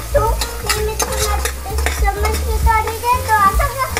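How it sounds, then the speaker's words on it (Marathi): Ginger garlic paste sizzles and fries in a hot pan, stirred steadily with repeated scraping strokes, close and fairly loud, while cooking misal in a Marathi kitchen. "आता टाकणार आहोत आलं लसूण पेस्ट"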